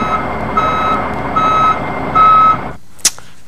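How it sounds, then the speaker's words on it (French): A reversing truck sounds three loud, evenly spaced beeps close by over a rumbling engine, then the engine cuts out and a single sharp click follows in near silence. "un camion qui recule."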